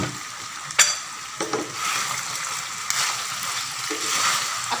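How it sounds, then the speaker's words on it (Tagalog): Homemade pork tocino fries in a little added oil, giving a steady close sizzle broken by a few sharp pops and the scrape of stirring, no talking. "Konti lang para lang siya ma-fry."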